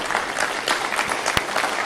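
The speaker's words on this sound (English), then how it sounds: "Clap." A crowd applauds steadily for about two seconds, a dense, even patter of many hands clapping with one sharper clap standing out near the end.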